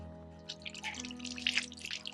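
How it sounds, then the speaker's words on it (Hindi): Water poured onto someone's hands indoors at home, a soft continuous splashing and trickling, close but quiet, with a low steady hum underneath and no talking. "ले हाथा पानी गिर दी थोड़ा"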